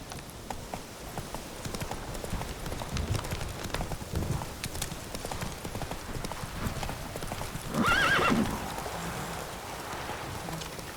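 Roach, the horse in The Witcher 3 video game, gallops in a steady clip-clop of hooves over a rumbling game soundscape, with a brief whinny near the end.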